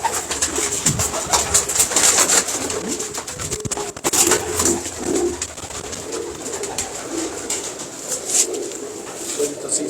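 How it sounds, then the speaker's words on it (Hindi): Pigeons coo repeatedly at close range with bird chatter around them, set against a steady high hiss and a few brief background voices. "तसीफ साहब के कबूतरों का हम शौक कर रहे हैं।"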